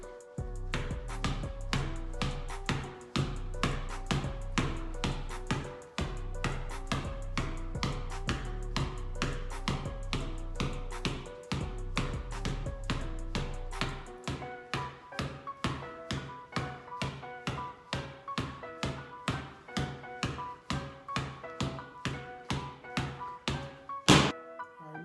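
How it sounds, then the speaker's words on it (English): A basketball is tapped firmly on the floor in a fast, steady run of dozens of sharp thuds, close and evenly spaced, over quiet background music during a ball-handling drill. "tap the ball firmly into the floor"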